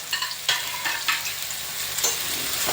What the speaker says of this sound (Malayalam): സവാളയെല്ലാം അതിനകത്തോട്ട് ഇട്ട് കൊടുത്തിട്ടുണ്ട് ഇനി അത് നന്നായിട്ട് ഇളക്കാൻ